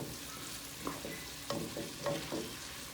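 Food stirred around in a hot sizzling pan with cilantro, a steady close frying hiss punctuated by several scraping strokes of a utensil against the pan, no talking.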